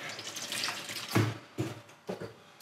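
Cold tap water pours into a basin of hot washing water with dish soap, a steady rushing splash broken by a few louder bursts and gurgles.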